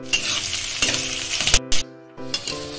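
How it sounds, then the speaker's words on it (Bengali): Onions frying with green chilli in a pan, a steady close sizzle with a few brief clinks and a short break near the end, no talk. "পেঁয়াজটি ফ্রাই করে নেব 7 মিনিট, 4 থেকে 5 মিনিট।"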